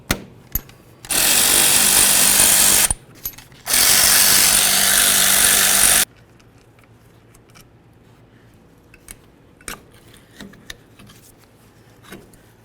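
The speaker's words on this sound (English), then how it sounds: "go ahead and remove our caliper to caliper slider bolts" A power tool spins out the caliper slider bolts on a Chevy S-10 rear brake in two loud bursts of roughly two seconds each, then a quiet stretch of faint clicks and tool handling follows.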